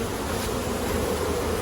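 Russian honey bees buzz steadily around hive frames during a July honey harvest, a dense, continuous close-up hum with no talk.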